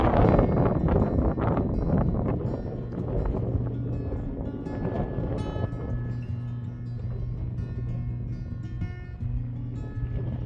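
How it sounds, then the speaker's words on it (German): Strong wind buffets the microphone on a mountain pass on the Pamir northern route, a loud roaring rush, easing slightly but staying constant throughout. "Hier oben weht ein strammer Wind"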